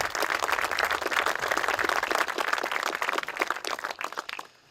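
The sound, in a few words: audience applause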